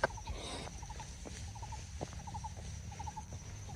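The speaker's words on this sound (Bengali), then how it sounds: "লাইক পাখির ডাক," Repeated short bird calls ring out in small clusters along a forest trail in Khao Yai National Park, moderately near over a steady background of rustling ambience.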